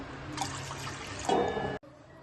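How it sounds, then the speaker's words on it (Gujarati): Water poured into a pan of sugar for syrup, a close, steady splashing pour that swells briefly before stopping abruptly, with no voices. "હવે એમાં 1 વાટકી આપણે ખાંડ નાખીશું ને એ જ વાટકીથી આપણે 4 ઘણું પાણી નાખી દઈશું"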